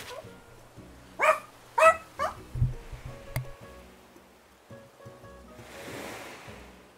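A pet dog gives a few sharp close barks in a quick cluster, then falls quiet against a soft background hum and a brief rush of noise later.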